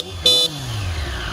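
Aftermarket Hella horns fitted to a motorcycle give one short, loud, bright honk of about a quarter second. The bike's engine idles steadily underneath it.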